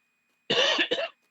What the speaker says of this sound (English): It adds some realism, the coughs.